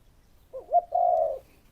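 A single zebra dove gives one soft, rolling coo, a short warbled lead-in followed by a sustained trill, heard close and alone against a quiet background, ending with a faint click.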